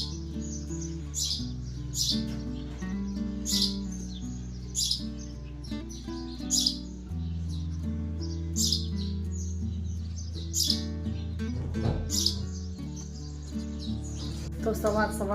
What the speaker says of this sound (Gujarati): સવારના છે ને બહુ જ મસ્ત અવાજ આવે છે ચકલીનો